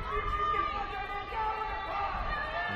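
A distant crowd murmurs and cheers at a women's league football match between Rangers and Partick Thistle, a steady broad hubbub of the stands with no clear single shouts.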